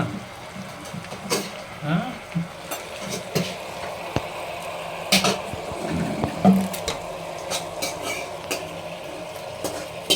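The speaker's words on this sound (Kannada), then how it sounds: "ಮೊಸರು ಹಾಕ್ಬಿಟ್ಟು ನಾವು ಮತ್ತೆ ಅದನ್ನ ಫ್ರೈ ಮಾಡ್ತಿದ್ದೀವಿ" Curd fries in a pan with spices, a low bubbling sizzle under frequent spatula scrapes, metal clinks and stirring, with someone talking intermittently.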